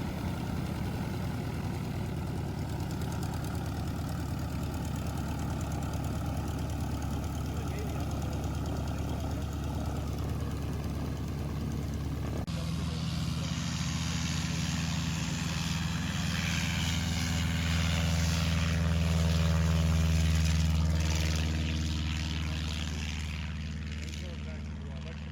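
A propeller airplane engine drones steadily, shifting to a deeper, louder idle rumble partway through, with faint talk mixed in, at a fly-in.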